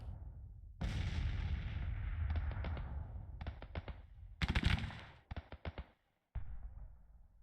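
Musket volleys and artillery rumble in Grand Tactician: The Civil War video game, with a heavy booming roar giving way to scattered crackling shots and short bursts, then a sudden gap of silence before the distant firing resumes.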